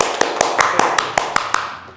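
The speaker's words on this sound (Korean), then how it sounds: "박수!" Hands clap sharply at close range, about nine quick, even claps in two seconds, slowing slightly toward the end and fading out.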